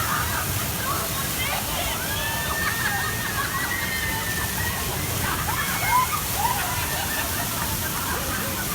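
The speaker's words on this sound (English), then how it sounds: "You can see some of the rapids here." Rushing rapids on a theme park river rafting ride at Universal Islands of Adventure, a steady broadband roar of churning, sloshing water heard close and continuous throughout, with faint voices mixed under the wash.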